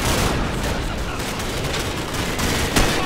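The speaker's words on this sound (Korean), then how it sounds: "쏘고 있다" Gunfire in Call of Duty 4: Modern Warfare, a dense, continuous rattle of shots filling the whole stretch with a sharper burst near the end, loud and close with no talk.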